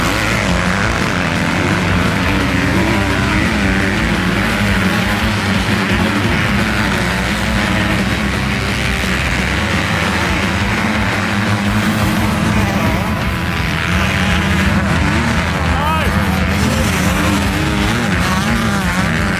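Big Wheel Junior dirt bikes racing at the Hattah Desert Race, a loud, continuous wash of engine roar and buzzing throughout, with faint voices underneath.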